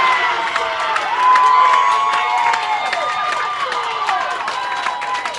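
A crowd of McKendree fans cheers and shouts loudly and continuously at a college bowling team championship semifinal, with excited voices and scattered clapping filling the hall.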